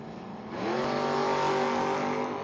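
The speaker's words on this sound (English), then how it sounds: "Taking on Weston Titsworth out of Benton, Kentucky. The Camaro dial 640." Drag racing cars, one of them a Camaro, launch down the strip at a Kentucky bottom bulb event. The engine roar climbs sharply and stays loud and sustained, with no voices.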